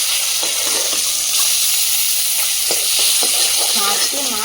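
Pieces of katla fish belly fry in a small amount of oil, giving a steady close hiss and sizzle with faint scrapes and clinks of a utensil now and then.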